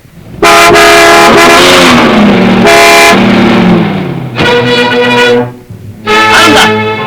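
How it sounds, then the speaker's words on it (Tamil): A car horn blares loudly in several long honks with short gaps between them. An engine runs underneath, all heard close up in an old Tamil film scene. "காரு சத்தம்."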